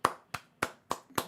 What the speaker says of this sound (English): Well, it's a round of applause for her then, I suppose.